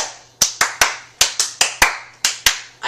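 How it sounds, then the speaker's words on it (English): Hands clap sharply and close, about a dozen crisp claps in a loose, uneven rhythm, each with a short ringing decay in a quiet room. "I keep clapping."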